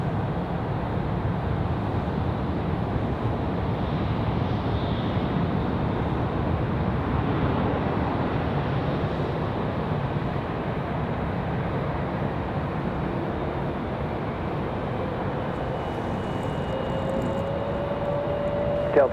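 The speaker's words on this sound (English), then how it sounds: "Nice smooth arrival for Delta." A Delta airliner lands at Raleigh-Durham airport at night, a loud, steady broadband roar of engines and rushing air sustained throughout, close and without speech.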